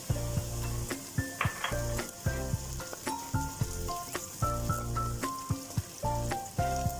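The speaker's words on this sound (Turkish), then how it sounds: "Bu şekilde de bir iki dakika daha kavrulmaya devam edelim." Potatoes and onions fry in a pan with a steady loud sizzle, broken by repeated sharp knocks and scrapes of stirring against the pan, alone without voices.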